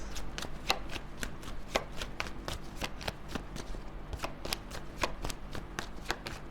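A deck of tarot cards is shuffled by hand, producing rapid, evenly spaced crisp riffling clicks throughout, close and fairly loud.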